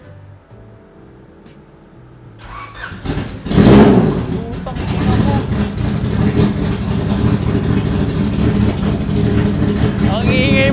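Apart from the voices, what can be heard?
1998 Honda Civic SiR engine starting and revving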